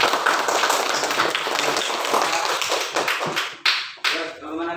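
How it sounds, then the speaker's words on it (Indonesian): A classroom of students claps for a presenting group, a dense, fairly close burst of many hands that fades unevenly toward the end, where a voice briefly speaks. "Tepuk tangan untuk kelompok 3."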